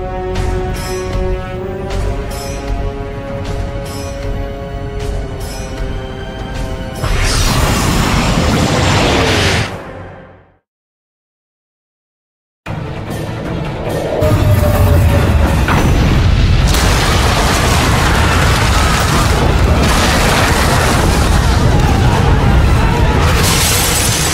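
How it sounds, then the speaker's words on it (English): A large underwater explosion in the Supergirl TV series, loud booming and shattering surges under dramatic score, cutting briefly to silence before a sustained heavy rumble resumes. "Cannot track that explosion at the source"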